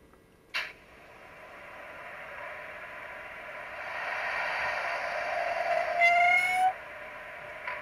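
An H0-scale FLIXTRAIN-liver Vectron class 193 electric locomotive model plays its onboard sound: a click, then a steady electric hum that swells, with a brief tonal horn-like call near the end.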